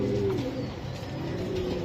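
Young racing pigeons coo softly in a loft, a low warbling call close by, with a rough murmur of other birds and a steady background hum.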